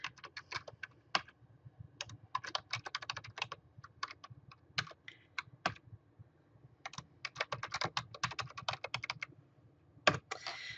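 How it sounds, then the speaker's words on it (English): Someone types on a computer keyboard while entering data into a Google Sheets spreadsheet, quick bursts of crisp close key clicks broken by short pauses, with a few louder single taps that sound like enter or arrow keys. "All you do is you type in your information, hit enter, or you can also use your arrow keys."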